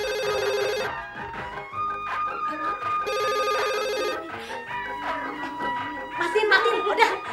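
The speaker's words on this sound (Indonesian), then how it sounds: "kecilin itu ada suara telepon" A telephone bell rings in two loud bursts, each lasting close to a second with a gap between them, under music and chatter in a home while people talk over the ringing.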